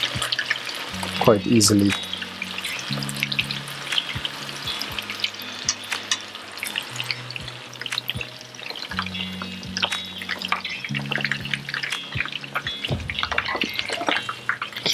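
Thai spicy chicken meatballs (laab gai thod) frying in a small batch in one pan, a steady hissing sizzle with bubbling and popping throughout, a utensil clattering now and then, and a voice speaking briefly over it.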